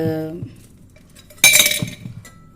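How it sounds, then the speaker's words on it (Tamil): A few ice cubes drop into a tumbler with a bright glassy clink and clatter, one sharp burst of impacts followed by smaller rattles, close and fairly loud, after a brief opening tone. "3 ஐஸ் க்யூப்ஸ் போட்டுக்கிறேன்."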